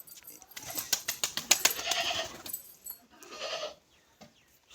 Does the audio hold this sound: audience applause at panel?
no